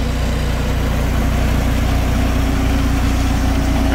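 A Volkswagen van engine idles steadily close by, a loud, even low rumble with a constant throb and no change in pace throughout.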